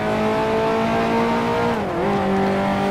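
A 1955 Formula One car slides out of a corner in Grand Prix Legends, its engine holding a loud steady drone before dipping in pitch briefly and recovering as it powers on.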